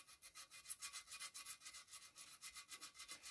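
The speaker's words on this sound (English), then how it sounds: "And then just keep sanding." Porcelain repair with Milliput epoxy filler being hand-sanded using folded abrasive: close, steady rhythmic rubbing strokes in quick succession, with no talking.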